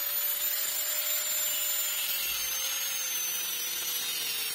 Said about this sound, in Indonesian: Oke, potong sesuai ukuran.